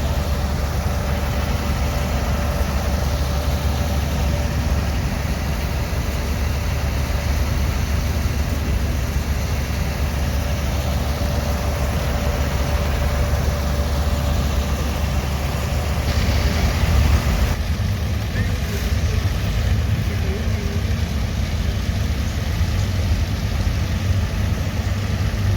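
Twelve old International Harvester Gold Demonstrator tractors idle together at a field demonstration day, a steady low rumbling drone held throughout with no talk.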